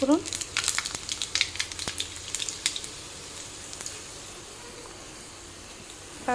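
Bay leaves and panch phoron spices crackle and spit loudly in hot oil, a dense burst of sharp pops at the start that thins into a soft steady hiss.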